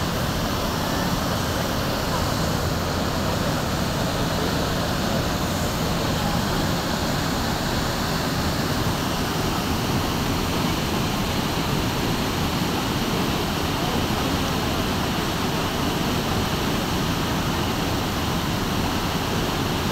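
Water from a waterfall plunges into a deep gorge with a constant, dense roar that holds unbroken and even in loudness for the whole stretch, with no other sounds standing out.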